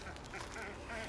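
Ducks quacking in a farm pen by a gate, a steady cluster of overlapping calls at close range, moderately loud and filling the brief moment on their own.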